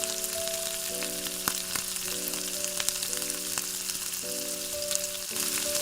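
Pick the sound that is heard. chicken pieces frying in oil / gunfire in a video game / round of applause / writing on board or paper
chicken pieces frying in oil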